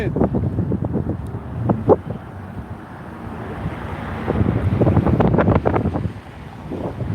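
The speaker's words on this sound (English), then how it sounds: "Sorry about the wind." Wind buffets the microphone outdoors at night in Las Vegas, a continuous rumbling roar that swells and eases in loud gusts, with faint voices underneath.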